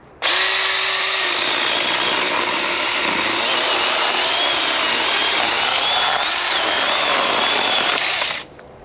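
A Saker battery mini chainsaw with a 6-inch blade and 20-volt battery cuts through a dead tree branch, whining loudly and steadily for about eight seconds before cutting off.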